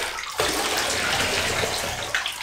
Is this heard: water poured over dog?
yes